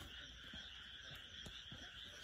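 Frogs croaking at night near a house during an outing to watch fireflies: faint, scattered croaks over a steady insect-like hum, with no voices.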